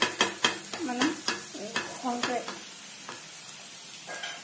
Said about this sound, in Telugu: ఒక 2 minutes అంతా బాగా వేగిపోయాయి